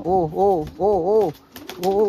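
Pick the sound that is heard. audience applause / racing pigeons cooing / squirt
racing pigeons cooing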